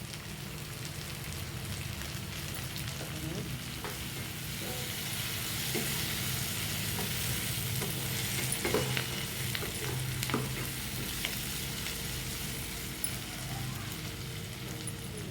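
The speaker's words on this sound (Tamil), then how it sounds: "வெங்காயம் இப்போ நல்லா வதங்கிடுச்சு பாருங்கள்." Onions and tomatoes frying in a pan for a prawn gravy hiss in a steady, close sizzle, with scattered stirring scrapes and taps throughout.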